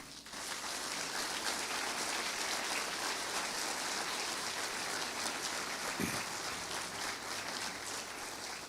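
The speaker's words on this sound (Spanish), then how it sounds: "Dele un aplauso al Señor." A church congregation applauds, dense sustained clapping from many hands that fills the room evenly from start to finish.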